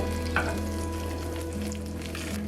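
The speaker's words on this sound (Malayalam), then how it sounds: "ഒരു ടീസ്പൂൺ നെയ്യിൽ കാഷ്യൂസും റൈസിൻസും അതുപോലെ തന്നെ വറ്റൽമുളകും ഇട്ട് കൊടുത്തിട്ടുണ്ട്." Cashews, raisins and dried chillies fry in ghee with a dense, constant sizzle, broken by light stirring clinks and a steady low hum underneath, close up.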